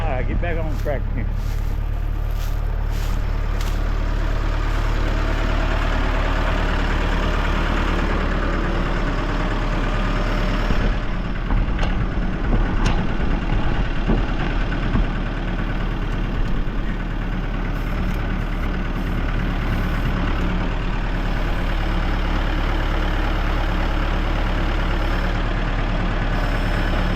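A tractor engine runs steadily, a loud continuous rumble that holds throughout with slight rises in effort, as someone talks over it.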